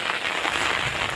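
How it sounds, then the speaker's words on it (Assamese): Rain patters steadily over an open field, a dense, even wash of drops close by with no pauses. "ফাইনালি বৰষুণ এৰা নাই বাৰু বৰষুণ এতিয়ালৈকে দিয়ে আছে"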